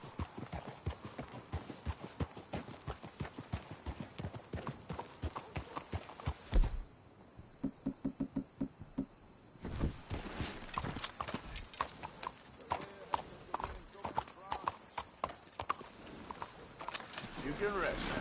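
Horses' hooves clip-clop steadily on the ground in Red Dead Redemption 2, a dense rhythmic clatter that eases briefly midway before resuming, with people talking over it.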